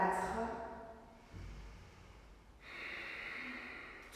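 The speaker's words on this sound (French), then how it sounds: "On n'oublie pas de bien respirer." Deep, audible breathing during a vinyasa flow yoga session: a long, close exhale through the nose fades out, followed by a steady drawn-out inhale.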